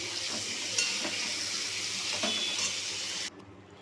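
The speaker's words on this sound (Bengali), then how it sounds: "এইভাবে লাল লাল করে ভেজে তুলে নেব।" Chicken pieces fry in a pan until reddish brown, giving a steady, close, dense sizzle with a few soft stirring clinks before it cuts off abruptly near the end.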